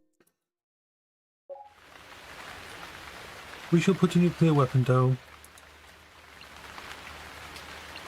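Steady rain falls on a city street in a video game, a soft continuous hiss heard throughout under a man's speech.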